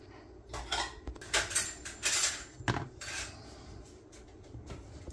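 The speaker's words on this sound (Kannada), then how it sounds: "ಈಗ ಬನಾನಾ ಫಸ್ಟು ಕಟ್ ಮಾಡಬೇಕು ಈ ಥರ" Knife slicing a banana on a hard surface while making a banana split, giving a series of short scraping and tapping cuts in irregular bursts, close and fairly loud, with no talking.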